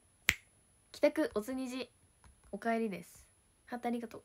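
A single sharp finger snap rings out close and loud at the start of a Japanese idol livestream, followed by a woman's speech.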